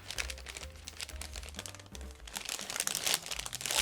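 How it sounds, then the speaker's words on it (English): Crinkly plastic rustling and crackling close by, a resealable plastic bag from an ICM 1/72 MiG-29 model kit being handled and opened, with no voices. "It's a resealable plastic bag,"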